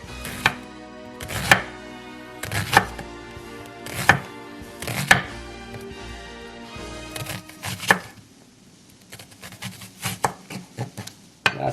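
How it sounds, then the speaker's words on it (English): Knife chopping onions on a cutting board, a run of sharp, evenly spaced chops up close, loud and alone, with quicker, lighter cuts toward the end. "Cutting onions."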